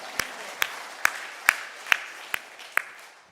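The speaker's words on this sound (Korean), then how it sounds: "우리 다 같이 하나님께 영광의 박수" A congregation at a Korean Sunday morning church service claps in unison, with seven sharp, evenly spaced claps ringing out in a steady rhythm.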